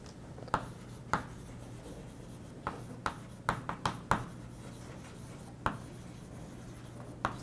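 Writing on a board in a lecture on non-overlapping domain decomposition: scattered faint taps and short scratchy strokes at an irregular pace over a steady low hum, with no talking.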